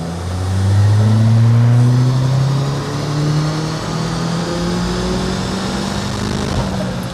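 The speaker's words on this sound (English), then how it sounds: "So we're now doing a run with a 102 octane rating map that you can get for the RT330." RT330 engine on a dyno run with a Stage 4 Revo 102-octane map, revving loudly as the pitch climbs steadily, then easing off and holding a lower rising drone with no talk.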